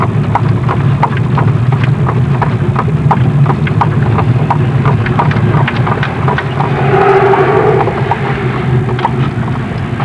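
Amish horses pulling a carriage clip-clop in a steady, even rhythm of hoof strikes on pavement, close and continuous over a low rumble of wheels and road noise, with no talk.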